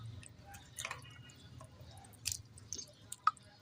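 Thick yogurt raita is spooned into a serving dish, making soft, faint wet squishes and a few drips close by.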